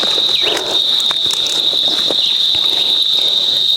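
Crickets and other summer insects chirp outdoors in a loud, continuous high buzz that holds steady throughout, with faint rustling and scattered ticks underneath.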